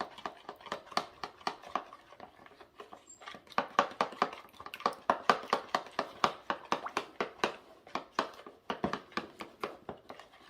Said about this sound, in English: Get that honey and that mustard mixed in really well